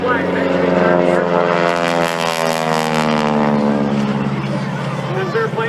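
Former US Army Air Force primary trainer propeller airplane climbing vertically and looping at the 2013 Wings Over Coshocton air show in Ohio, a loud droning engine with shifting pitch as it passes overhead, with an announcer talking over it.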